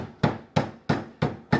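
A hammer beats a clay mold flat for a hammerhead shark casting, five sharp, evenly spaced blows landing close and loud, each thud ringing briefly before the next strike.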